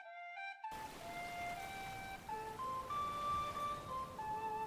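Ambient rain from the medieval city-building game Manor Lords gives a soft, constant hiss beneath gentle sustained melodic tones that shift pitch now and then.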